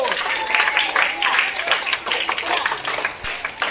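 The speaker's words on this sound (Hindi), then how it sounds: "बहुत ताली बजाओ।" Students clapping in a classroom during a maths activity, a busy, fairly loud burst of hand claps running throughout, mixed with voices talking over it.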